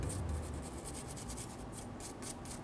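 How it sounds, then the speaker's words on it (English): Brass bristle brush scrubbing corrosion off a Hummer H3 transfer case housing, a steady close, dry rasping scrape that runs continuously with light rhythmic strokes. "I'm just using a brass bristle brush here."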